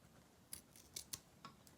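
Scissors snip through silk ribbon at a downward angle while trimming V-cuts on a bridal bouquet bow: four or five short, crisp, close snips spaced unevenly over a quiet background.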